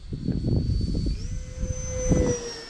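An RC delta fighter plane's electric motor at 30% throttle gives a steady high whine that shifts pitch partway through. Wind and handling noise sound close by, and no one talks over it.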